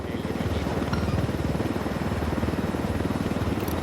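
A helicopter in Ghost Recon Wildlands closes in with rapid, rhythmic rotor chopping over an engine hum, loud and steady, with voices speaking over it.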